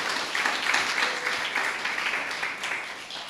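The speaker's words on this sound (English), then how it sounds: "That deserves an applause" A lecture audience at the annual Marcus Mosiah Garvey Lecture at Liberty Hall applauds a newly introduced professor of cultural studies. It is a continuous wash of many clapping hands, moderately loud and steady, easing slightly toward the end.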